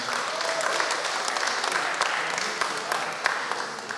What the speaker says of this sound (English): Let's give them one more round of applause as well